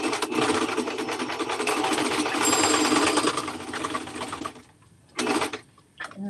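A sewing machine runs steadily for about four and a half seconds, stitching the shoulder seams of a cropped cardigan, then stops, with a short burst of stitching afterward and another brief one at the end.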